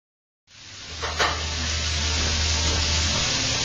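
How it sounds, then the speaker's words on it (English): Noodles frying in oil in a pan as spicy shrimp pasta is cooked, a loud steady sizzle that starts suddenly and holds, with a brief stir or clatter near the start. "I'm going to put the noodles in, and I'm going to start frying the noodles."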